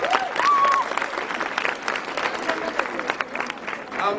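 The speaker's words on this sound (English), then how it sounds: "May we give a big hand of applause for these great people." School assembly crowd claps for guests at a high school motivational tour event, a steady wash of applause with a voice talking over it.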